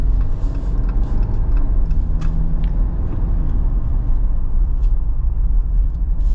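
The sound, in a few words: AEV Wrangler 4xe driving on 37-inch tires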